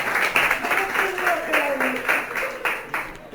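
Congregation clapping during a church talk, a rhythmic crowd applause with regular beats under a lightly sung or spoken melody, moderately loud and continuous.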